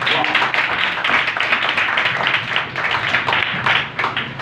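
A church congregation gives sustained applause in honour of Sister Alishba, dense clapping from many hands that holds steady and fairly loud throughout, with no talk over it.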